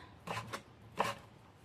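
A knife chopping food into cubes on a board, three quiet cuts, two close together and one a moment later, faint and close with no talk.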